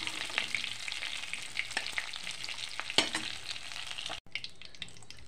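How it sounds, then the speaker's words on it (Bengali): Chicken pieces sizzle and fry steadily in a pan for chicken chili rice, a close, continuous crackle with occasional stirring scrapes and a brief drop near the end. "বাকিগুলোও ভেজে নিচ্ছে, লাল লাল করে ভেজে নেব।"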